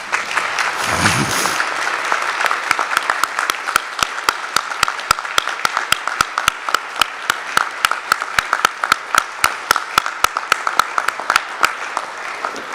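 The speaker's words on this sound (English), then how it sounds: "Please stand and give a round of applause to your biggest supporters." A commencement audience at Lyon College applauds, starting as a brief swell of clapping and crowd noise and then settling into crisp, evenly spaced claps that continue steadily to the end.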